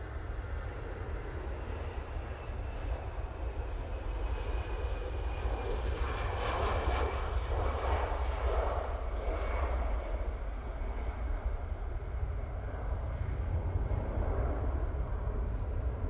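Airliner engines roar steadily at Manchester Airport, a loud, broad continuous rumble with a swelling jet whine that holds throughout, close and dominant with no voices.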